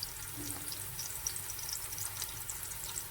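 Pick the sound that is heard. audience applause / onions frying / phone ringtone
onions frying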